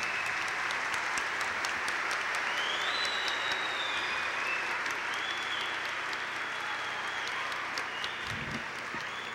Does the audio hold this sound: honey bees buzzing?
no